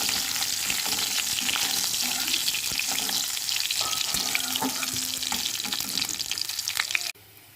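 Panch phoron, ginger, and green and dry chilies fry in hot oil in a loud, dense, crackling sizzle with stirring scrapes, close up, before it drops away abruptly near the end.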